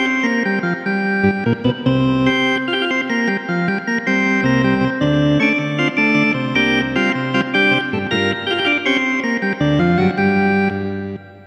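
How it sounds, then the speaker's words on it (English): A Hammond XK5 organ set to a reedy Vox-style tone with four drawbars pulled out plays a lively chordal passage with moving bass notes, bright and buzzy, loud and close, with no voices. "more of what Vox would have labeled as a reedy sound"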